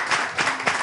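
An audience claps briefly in a few short bursts of applause, fairly loud and close, with no talk over it.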